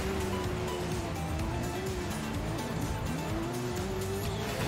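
A car in the racing game Forza Horizon 5 drives with a steady engine drone and a continuous whining tire squeal that bends in pitch, loud and constant throughout.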